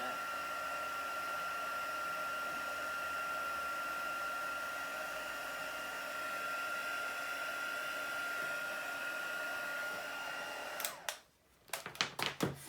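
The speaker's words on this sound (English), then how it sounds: "Just heating my gun up now." A heat gun blows hot air for embossing a notebook cover, a steady loud whooshing hum with a faint whine that runs for several seconds before being switched off with a few clicks.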